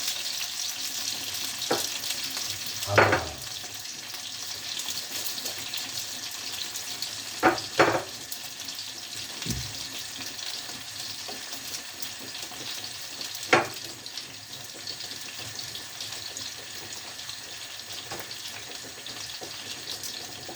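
Eggplant sizzles and crackles steadily as it fries in oil in a pan, with a few sharp clinks and knocks of utensils now and then; no talking.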